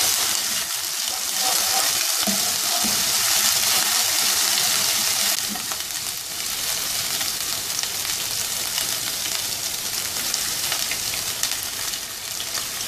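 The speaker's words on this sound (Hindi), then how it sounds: "अब इसमें ये जिंजर गार्लिक पेस्ट शामिल कर दें, इसको भी सौते करें।" Ginger garlic paste sizzles steadily with softened onions in a pan for Punjabi kadhi pakora, a loud, continuous frying hiss with occasional stirring scrapes.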